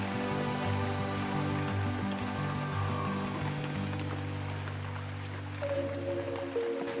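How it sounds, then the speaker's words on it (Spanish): Steady rain falls in Norway, heard as a constant wash of drops with no speech and a low tonal hum running underneath. "la lluvia no ha parado"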